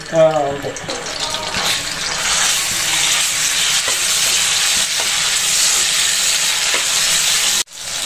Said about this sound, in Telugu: నూనె కాగిన తర్వాత అల్లం వెల్లుల్లి పేస్ట్ వేసుకోవాలి.